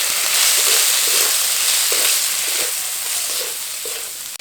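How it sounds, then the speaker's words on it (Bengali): Loud, steady sizzling of potato and eggplant frying in oil in a pan, with soft periodic scraping as the pieces are stirred, close and continuous. "খুব ভালোভাবে নেড়ে নেব আলু বেগুনটা"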